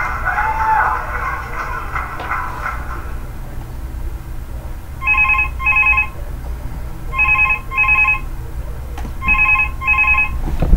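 Phone ringing in the horror video game Five Nights at Thomas: three pairs of short electronic trills, evenly spaced and fairly loud, sounding over a low droning game ambience after a stretch of background noise.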